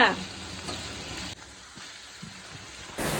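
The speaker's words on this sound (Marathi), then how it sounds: "तेल गरम झाले कांदा ॲड करू" Onion frying in hot oil while a dried-fish (sukat) dish is cooked, a broad steady sizzle that is loudest at the start, eases off, then swells again near the end.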